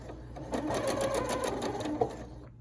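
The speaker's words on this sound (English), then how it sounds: "Drop the presser foot, and you can start sewing again." A 1990s Kenmore sewing machine runs a straight stitch in a fast, even whirring chatter for about two seconds, then stops abruptly, heard close and alone.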